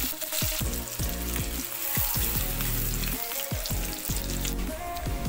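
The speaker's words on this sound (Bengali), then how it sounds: "তেল গরম হয়ে গেছে, প্রথমে দিলাম লঙ্কা, পেঁয়াজ, অল্প" Green chilies, onion and a little nigella seed hit hot oil, making a loud, close, continuous sizzle and crackle with repeated soft knocks of stirring throughout.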